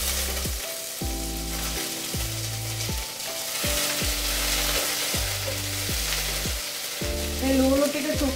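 Onions fry in oil with cinnamon and cardamom, a steady close sizzle running throughout with occasional stirring, while music plays underneath and no one talks.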